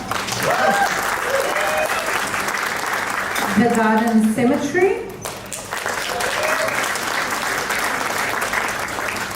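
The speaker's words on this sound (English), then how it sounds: "You can clap if you like." Audience applause at the 10th Australian Muslim Achievement Awards, a steady round of clapping through most of the clip. A voice speaks briefly over it near the middle, then the clapping continues.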